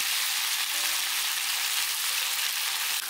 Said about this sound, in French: J'étale bien les morceaux et je les laisse griller pendant une minute.